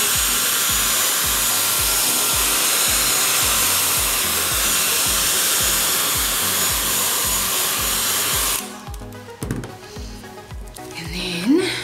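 A hair dryer blows steadily on wet paint on a journal page, a loud continuous whirring hiss with a rhythmic motor pulse, cutting off near the end, followed by faint handling rustles.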